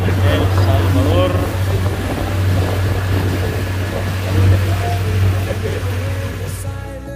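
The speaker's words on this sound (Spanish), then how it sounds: "Estamos haciendo este paseíto en lancha aquí en el lago de Coatepeque" Motorboat cruising on Lake Coatepeque in El Salvador, a steady low engine drone with water wash running throughout, loud and close, while a voice talks over it.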